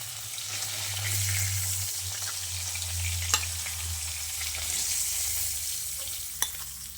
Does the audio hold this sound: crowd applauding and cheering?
no